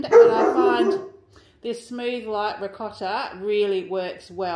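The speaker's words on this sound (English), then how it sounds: "Apologies for my dogs in the background." Dogs bark now and then in the background of a home while a person talks steadily in the foreground, the barks faint and partly buried under the speech.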